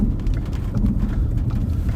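Steady rain pours down at night during a storm chase, a dense continuous low wash with no voices, loud and close throughout.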